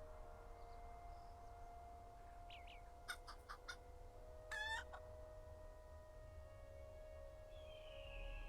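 Red-tailed hawk cries in the game Lord of the Rings Online: a few sharp, high calls in quick succession, then a longer descending screech, set against steady low ambient hum with no talk.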